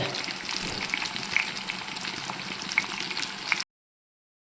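Sardines frying in a pan, a steady close sizzle and crackle of hot oil running alone for several seconds before cutting to silence.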